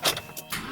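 A Porsche 997 Carrera 4S on a jump starter cranks and catches in a short, loud mechanical burst with broadband rasping bursts, close to the car and with no one speaking.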